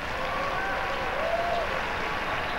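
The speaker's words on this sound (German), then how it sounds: "Sie merken es am Beifall" Sustained crowd applause for Steffi Graf at a 1996 Roland Garros tennis match in Paris, an even broad wash of clapping from a distant stadium audience, with a few faint whistles.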